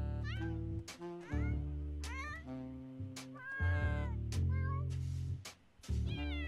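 A cat in The Sims 4 video game meows repeatedly, several close, clear meows and drawn-out cries standing out over a steady backdrop of game music.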